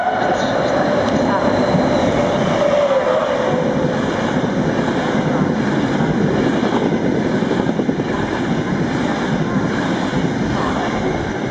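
An Intercity train hauled by E402B and E402A electric locomotives passes through Milano Rogoredo station, a loud continuous roar with a brief whining tone early on, steady throughout.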